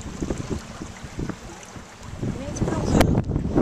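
Gusty wind rumbles and buffets the microphone by a lake at Anderson Marsh, rising and falling, with faint voices and a soft thump beneath it.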